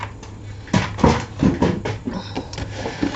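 Paper being scored on a scoreboard at half-inch and four-inch marks for a card project, heard as a series of short scraping strokes and taps close by, with no talking.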